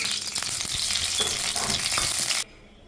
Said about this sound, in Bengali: কড়াইটা আমার গরম হয়ে গেছে এবার আমি তেল দিয়ে দিচ্ছি রিফাইন তেল